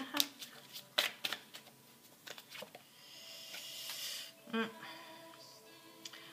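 Tarot cards shuffled and drawn during a reading: soft papery riffles and flicks in several bursts, close and moderately loud, with brief quiet gaps between handling.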